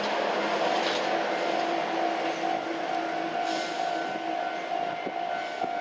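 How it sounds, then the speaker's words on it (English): A Scania doubles trailer truck rolls steadily past a railroad crossing in Yamaguchi, its engine a continuous broad drone at moderate distance, with faint tones sounding over it and no voices. "The Scania doubles trailer also runs here."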